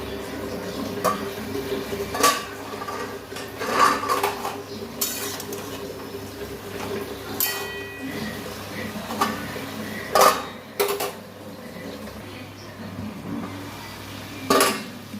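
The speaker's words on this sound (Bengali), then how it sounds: "ঢাকা খুলবো আর নাড়বো" Utensils clink and knock against a pot while cabbage curry is stirred, the metallic taps coming in scattered bursts over a steady background hum.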